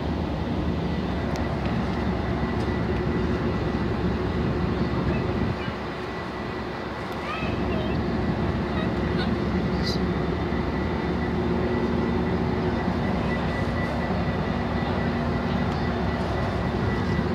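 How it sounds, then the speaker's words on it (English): A TRE commuter train bound for Fort Worth rumbles steadily nearby for the whole stretch, a dense mechanical roar with a brief dip midway. "This is the TRE commuter train. It's going to Fort Worth."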